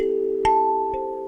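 Calm kalimba notes from a simple box 1 phrase, heard alone: a sustained ringing tone with two soft plucks about half a second apart.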